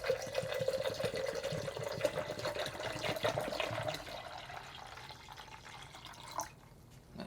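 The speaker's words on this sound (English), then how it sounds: "And you fill it up with water." Water pours from a tap into an almond milk maker, a steady close splashing fill with a rising tone that tapers off near the end.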